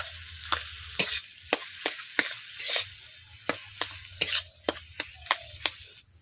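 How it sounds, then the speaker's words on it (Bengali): Mashed potatoes for aloo paratha filling stirred in a hot wok, a soft steady sizzle broken by a dozen sharp scraping knocks of the spatula in an uneven rhythm, close and clear with no talking. "ম্যাশ করা আলুগুলো আমি দিয়ে দিচ্ছি কড়াইয়ের মধ্যে।"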